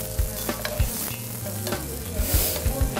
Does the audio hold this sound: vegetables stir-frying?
yes